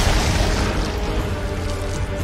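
A bomb bursts in The Witcher 2, a loud, deep rumbling boom that fills the low end and sustains as a dense roar throughout, with no voices over it.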